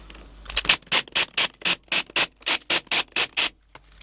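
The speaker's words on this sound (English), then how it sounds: "Now I'll ugga-dugga all 12 bolts down." Impact wrench running down a ring of twelve differential bolts on an FJ45 Land Cruiser diff rebuild, a steady series of about twelve short, sharp bursts, close and loud, each separated by brief pauses.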